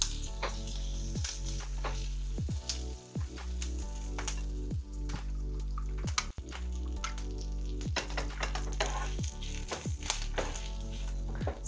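Curry leaves sizzle and crackle in hot oil for a tiffin-center style chutney, with a steady close frying hiss broken by sharp pops and stirring clatter, no voices.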